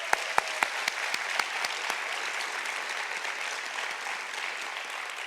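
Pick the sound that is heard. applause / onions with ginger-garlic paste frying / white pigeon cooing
applause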